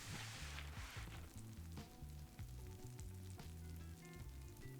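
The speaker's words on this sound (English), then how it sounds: "I'm back with some more freshly washed LECA, and it sounds like cereal right now." Freshly rinsed LECA expanded clay pebbles crackle and pop continuously, a dense, close, steady fizz like cereal in milk, alone with no talk.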